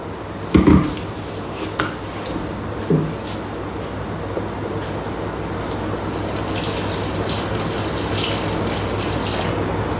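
Water pours steadily into a Thermomix bowl for bao bun dough, a close, continuous trickling wash after a few brief knocks and clinks at the start.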